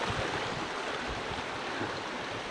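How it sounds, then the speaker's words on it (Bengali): A waterfall stream pours along the Annapurna Base Camp trail in Nepal, giving a steady, dense rush of water that stays even throughout, with no voices. "কি সুন্দর এক ঝর্ণা না?"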